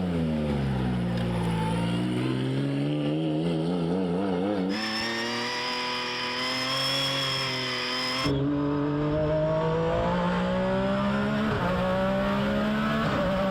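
A flat-six race car engine, Ken Block's Hoonipigasus, revs hard and high toward 9,000 rpm, pitch climbing and falling through gear changes, with a faint tire squeal.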